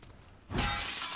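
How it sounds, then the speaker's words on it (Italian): Glass shattering in the video game The Last of Us Part II: a sudden loud crash after a quieter stretch, with a bright scattering burst that rings on briefly. "Comunque il vetro lo spacco lo stesso."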